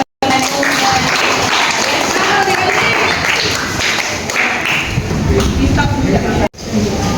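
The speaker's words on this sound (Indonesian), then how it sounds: "tepuk tangan" A classroom of students claps together after returning to their seats, a dense, steady patter of many hands close by that holds for several seconds, then briefly cuts out before resuming, with some voices mixed in.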